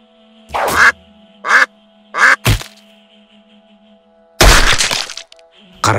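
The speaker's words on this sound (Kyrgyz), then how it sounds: "Өрдөк учуп баратабы?" A cartoon duck quacks in three short, nasal bursts over a steady background tone, followed by a sharp crack and a longer, louder burst of noise.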